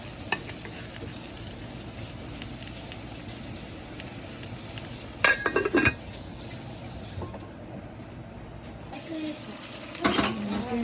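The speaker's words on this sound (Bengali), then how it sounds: "বাগানের ফ্রেশ বরবটি চিংড়ি শুটকি দিয়ে চুলায় বসিয়ে দিলাম" Fresh garden long beans with dried shrimp cook in a pan on a stove, giving a steady sizzling hiss throughout, with brief metallic clinks and stirring scrapes partway through and again near the end.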